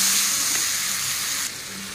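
Taro greens being stirred and fried in a pan with a little salt give off a steady, close sizzle that fills the whole stretch with no talking.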